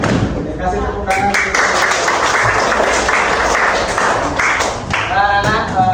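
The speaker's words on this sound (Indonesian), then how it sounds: "Oke, kasih tepuk tangan." Schoolchildren clap their hands together in a classroom, a loud, busy burst of clapping mixed with thumps and voices throughout, with a teacher's voice close by.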